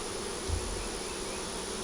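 Honey bees at a hive being checked, a steady close drone of many wings buzzing together, continuous and fairly faint with no voices.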